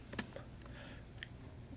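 Short burst of a few soft keystrokes on a computer keyboard, quiet and close, with faint clicks trailing off over under two seconds.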